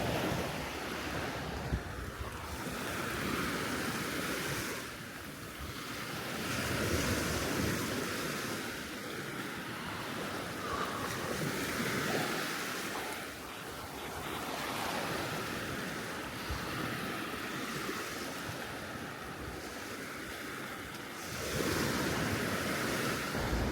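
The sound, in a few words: ocean waves on a beach, Koh Kut island, Thailand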